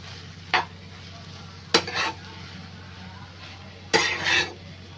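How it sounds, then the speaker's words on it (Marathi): A wild vegetable is sautéed in a pan, with three short scraping stirs of a spatula over a faint steady sizzle and quiet background hum. "हे बघा अशी मी व्यवस्थित परतून घेतले"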